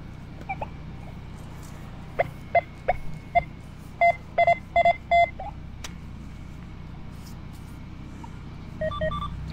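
A metal detector sounds a series of short, high electronic beeps over a low background hum, several in quick succession mid-clip and a few more toward the end, reacting to a buried target while digging at an old school site.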